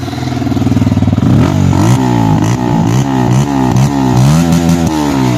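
A Keeway RKF 125 motorcycle engine runs close by, revving up and down repeatedly with rising and falling pitch, no talking.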